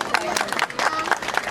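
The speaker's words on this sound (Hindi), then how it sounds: "उनके लिए तालियां बजा दी।" A crowd at an Independence Day event claps in a brief, dense burst of applause, moderately loud with some murmuring mixed in.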